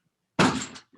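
A cat pushing a household door open gives one short, solid thunk and brief rattle, close and alone, followed by a faint tap.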